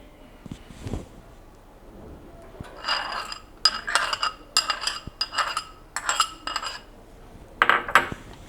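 Curd is stirred into cucumber salad in a bowl, with a spoon making a run of light, bright clinks and scrapes against the dish after a few quieter handling sounds.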